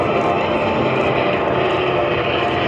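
A Vought propeller airplane drones steadily overhead at an air show, its engine and propeller noise loud and continuous throughout.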